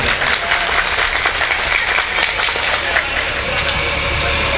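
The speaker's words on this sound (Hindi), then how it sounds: "एक बार फिर इनको जोरदार तालियों से इनका इस्तकबाल करें।" An audience at a mushaira and kavi sammelan poetry gathering applauds loudly, a dense, sustained wash of clapping over a low background rumble.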